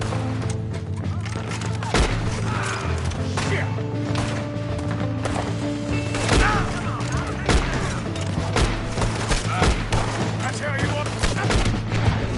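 A video game shootout in a canyon, with dense, continuous rapid gunfire and overlapping shots, loud and close, along with voices talking over the noise.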